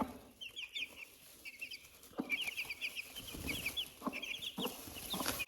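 A broody hen clucks softly and repeatedly while her newly hatched chicks peep in high, rapid bursts nearby, with faint rustling in between.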